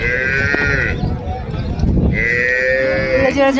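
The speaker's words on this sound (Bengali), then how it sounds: "একটি গরু দৌড় দিয়ে দিল" Cattle at a rural village livestock market ahead of Qurbani Eid let out two long, loud moos, one at the start and another after a short pause, over a constant murmur of crowd noise.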